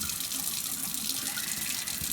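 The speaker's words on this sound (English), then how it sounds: "So I like to start adding just a little bit of water on both ends, and then try to dump out as much as we can." Water sloshing and pouring out of a glass waterpipe during cleaning, a steady close gushing rush with no pauses and no voices.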